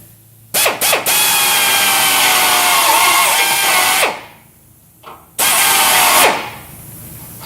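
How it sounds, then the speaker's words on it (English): A power drill fitted with a small step bit enlarges holes in metal during a TeraFlex rock slider install, whining loudly and close in one long burst of about three and a half seconds, then a shorter second burst. "I'm just using a little step bit and just went up one size over it"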